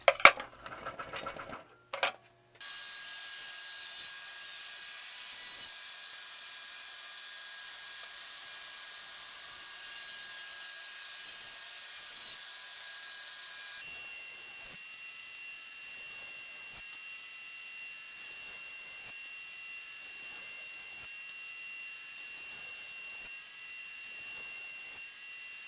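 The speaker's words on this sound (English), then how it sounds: "using it as a guide for your circular saw to cut a nice straight line" A circular saw rips wooden strips along a straight guide for an end grain cutting board, giving a steady, close whine with a slight pitch shift midway that runs for about 23 seconds after a short burst of startup noise.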